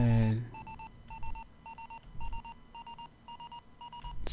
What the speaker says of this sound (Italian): Sì, allarme di prossimità.